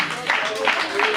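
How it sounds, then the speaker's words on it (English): Attendees at an annual general meeting and anniversary commemoration clap for themselves: a brief burst of moderate clapping with a few cheers or vocal tones threaded through. "So let's clap for ourselves again."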